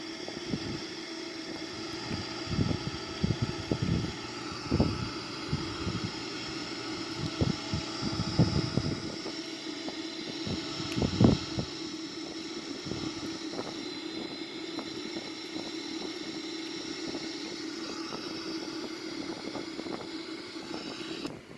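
A Boeing 787-900 airliner in flight in a flight simulator hums with a steady engine and wind roar, broken by scattered clicks and thumps, with no talk.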